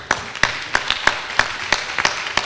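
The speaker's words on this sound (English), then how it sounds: "So let's clap for them again." An audience at a university technology week hackathon event applauds the participants, producing steady scattered clapping with regular sharp claps standing out over a soft crowd wash, no talking.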